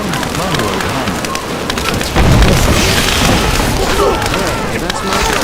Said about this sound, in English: Hey, that's my castle you're destroying.